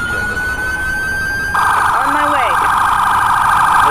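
An ambulance siren in the Emergency 4 video game starts as a steady high tone, then switches to a loud, rapid warbling wail that continues to the end, with a brief burst of speech partway through.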